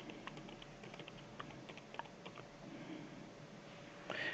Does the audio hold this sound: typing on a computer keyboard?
yes